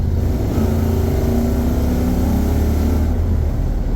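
A 1961 Buick Skylark engine roars loudly as the automatic transmission kicks down under hard throttle, a dense, rough, steady growl that climbs slightly in pitch, heard up close without talk.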